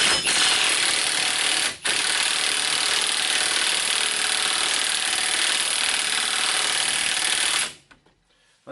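A power tool spins a socket against a rusted front axle nut on a 2001 Buick Century during a hub bearing job, a loud, steady grinding whir that runs almost unbroken, dips once briefly, then cuts off abruptly near the end.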